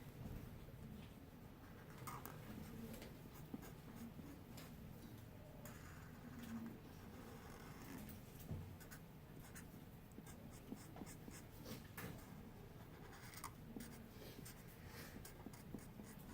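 A pen or marker draws graph lines on a board, a soft continuous scratching with short strokes over a steady room hum, fairly faint and close, with faint bird cooing in the background.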